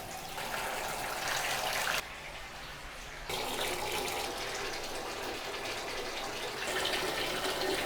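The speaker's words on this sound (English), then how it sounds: "if I just turn on hot water" Hot water runs steadily from a bathroom tap in a small bathroom, a loud continuous gushing stream that briefly drops in level for about a second before resuming at full strength.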